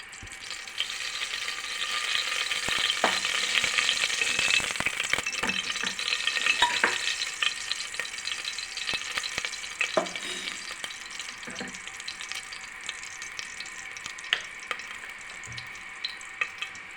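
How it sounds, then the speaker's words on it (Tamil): Mustard seeds frying in hot oil while tempering for a kuzhambu, a dense steady sizzle with scattered sharp pops and clicks, close and loud. "கடுகு வெந்துச்சு கடுகு பொஞ்சிச்சு"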